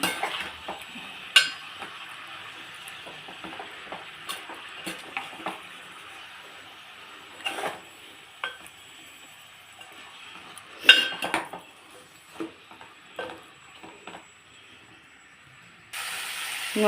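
Broad bean curry with chilli powder being stirred in a pan, a spoon scraping and clinking against the metal in irregular strokes over a soft, steady sizzle, close and fairly quiet.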